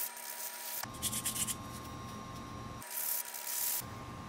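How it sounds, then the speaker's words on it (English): Sandpaper roughs up the top of a plastic bottle cap in short, scratchy rubbing strokes that come in bursts, close and fairly quiet, with no voices. "Now get some sandpaper and rough up the top surface of the cap where it's going to be joined together."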